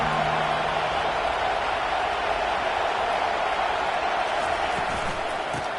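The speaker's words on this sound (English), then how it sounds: "listen to the roar of this crowd" A packed stadium crowd roars at a college football game, a dense, steady wash of noise that fills the whole stretch without letting up.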